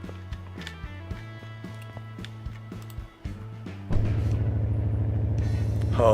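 A carbureted car engine in a video game idles on a dyno with a rhythmic chugging pulse, then revs up into a louder, steady mechanical drone.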